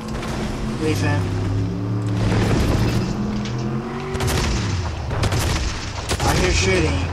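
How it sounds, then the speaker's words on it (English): In a video game, a car opens fire with rapid gunshots and booming bursts amid loud, dense game noise, while several players talk over it. "Yeah, the car was shooting at us."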